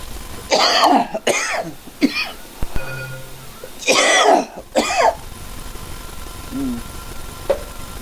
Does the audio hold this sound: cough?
yes